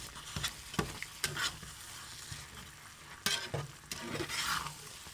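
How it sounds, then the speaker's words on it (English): A spoon stirs simmering tomato sauce with pancetta in a pot: close scraping strokes and clinks come at irregular moments over a steady soft bubbling sizzle, with no voices. "Just mix that all through."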